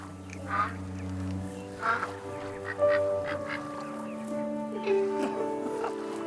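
Ducks quack in the video game That Dragon, Cancer, a few short, clear calls spaced across the scene over steady game music and ambience.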